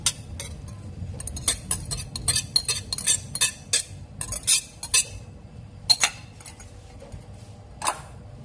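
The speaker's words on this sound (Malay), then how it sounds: "Kita gaul dia bagi sekata dan sebati." A utensil clinks and scrapes against a bowl in quick irregular strokes, close up, with no talking, mixing chocolate fruit steamed-cake batter with baking soda and egg.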